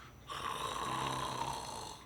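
A voice imitates a vibratory snore, making one steady, rattling snoring sound held for about two seconds.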